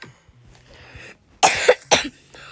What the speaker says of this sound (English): when else if I cough,